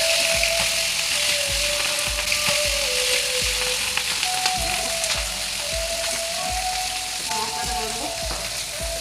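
Onion, mustard paste, tomato, turmeric and chili hit a pan of frying fish, giving a steady loud sizzle broken by regular scraping stirs.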